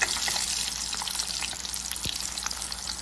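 Salmon pieces fry in hot oil for a Coimbatore-style fish fry, giving a loud, dense, continuous crackle and spatter close up, with one dull knock partway through and no talk.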